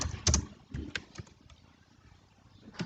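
Code is typed on a computer keyboard, with scattered soft key clicks and a couple of louder clustered taps at the start and end, close and quiet, with no talking.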